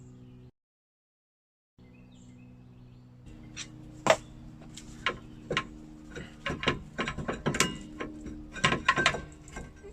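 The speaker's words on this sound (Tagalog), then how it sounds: "gamitin ang flathead na screwdriver para mapaikot mo yung star adjuster" Flathead screwdriver turning the star adjuster on a Toyota drum brake shoe, giving a series of close, sharp metallic clicks and ticks that grow busier and more irregular, after a short silent gap near the start.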